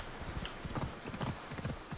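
A horse gallops in the video game Assassin's Creed Odyssey, its hooves beating a fast, even clip-clop rhythm up close for two seconds without pause.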